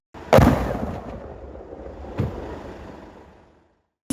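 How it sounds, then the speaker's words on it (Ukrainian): A sharp, heavy blast from sappers detonating leftover explosives, followed by a long rumbling roll that fades out, then a second, weaker thud, distant and outdoors. "сапери, що виїздять разом з пошуковцями, підривають залишену росіянами вибухівку"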